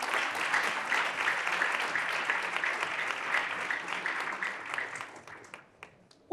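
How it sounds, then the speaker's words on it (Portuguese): Audience applause for a Morgan Stanley executive introduced on a financial-careers panel: dense, steady clapping from a room of people that holds for about five seconds, then thins and fades out. "Uma salva de palmas."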